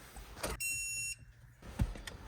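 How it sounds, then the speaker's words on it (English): A short high electronic beep tone from a Topdon TopScan Bluetooth OBD2 scanner as it is plugged into a car's OBD port, held for about half a second, close by, surrounded by faint handling noise and a soft thump. "You heard that beep as soon as I plugged it in."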